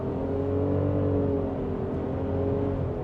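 Nissan Rogue SUV with a three-cylinder engine and CVT held at high revs, a steady droning engine whine with little change in pitch, loud and close, with no talking.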